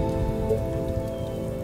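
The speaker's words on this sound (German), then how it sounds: "Es regnet wie sonst was." Heavy, steady rain in the video game They Are Billions, with a dense, constant patter and hiss that continues without a break throughout.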